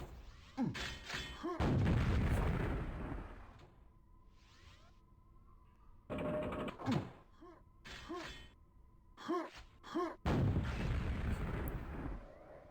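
Rocket explosions in a Quakeworld duel, two players trading fire: a rapid series of heavy booming blasts with dense broadband crashes, bunched in bursts and separated by quieter game ambience.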